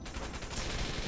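Dense, continuous gunfire from the action game Wanted: Dead, a rapid rattling barrage that fills the whole brief moment with no voices.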